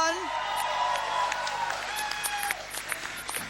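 A concert audience breaks into applause and scattered cheers, a steady wash of clapping with a voice speaking over it, at an Akademi Fantasia 9 concert.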